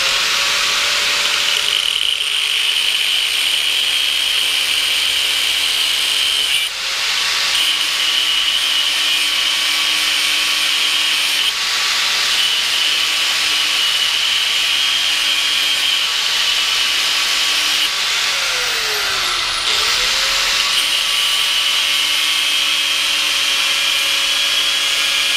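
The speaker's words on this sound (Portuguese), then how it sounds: "você segura aqui com o alicate, ó, vem com a lixadeira e dá um corte no meio dela aqui" An angle grinder cuts through a motorcycle clutch part held with pliers, a loud, sustained high whine broken into several long passes with brief pauses and pitch dips where the disc bites into the metal.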